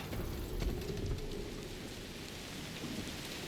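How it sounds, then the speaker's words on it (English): Steady rain hiss with low rumbling thunder in Death Stranding 2, a continuous wash of timefall pouring down throughout, with a heavier rumble near the start. "Oh, the timefall coming down."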